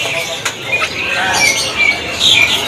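A cucak emas songbird at a bird market gives quick bright chirps and sharp squawky notes in short bursts over a busy background murmur.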